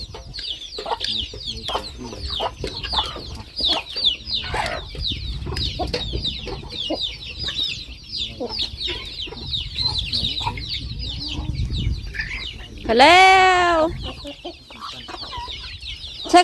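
Chickens clucking steadily on a farm, with a rooster's loud call cutting in briefly near the end, all fairly close and with no one speaking.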